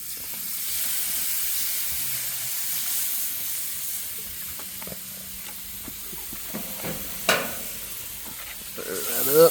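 Squirrel gravy with milk is stirred in a hot pan, a soft bubbling sizzle and hiss with scraping strokes that fade in intensity, ending in a few louder clinks and splutters near the close.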